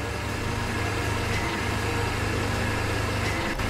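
A steady diesel engine drones at half throttle in the video game Industrialist, a continuous low hum holding even throughout, with no voices.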